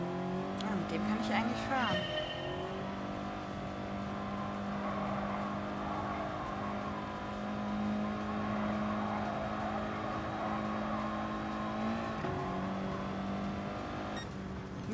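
An Audi TT race car in the Gran Turismo video game, with a steady engine drone at constant revs, brief tire squeals and gear shifts near the start and end, all loud and continuous.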